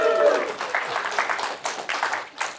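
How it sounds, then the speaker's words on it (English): A burst of crowd applause with scattered cheering, fairly loud and continuous, fading slightly toward the end. "huge round of applause, cheers, everything else for the recording"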